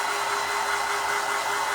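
A hair dryer blows a steady, loud whooshing hum while drying a Dollar Tree bunny craft, continuous throughout with no talking.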